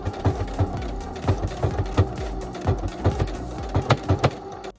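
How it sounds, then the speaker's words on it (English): A sewing machine stitches gold sequin fabric in loud, rhythmic bursts of mechanical thumping, each run a rapid series of needle strikes with short pauses between, close up and without talk. "I am actually sewing with that gold fabric, and I'm going to let you hear what this sounded like because it was very loud"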